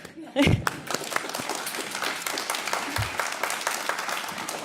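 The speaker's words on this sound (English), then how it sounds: "I'm going to clap." Applause from attendees at an education, environment and sustainability committee meeting after a vote, opening with a sharp thump and then continuing as a moderate, steady patter of clapping in a room.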